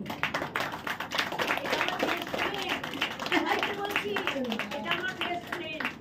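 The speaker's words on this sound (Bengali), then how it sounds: "একটা জোরে হাততালি।" Audience at a cultural stage performance in an auditorium breaks into applause, dense rapid clapping from many hands sustained for several seconds at close range.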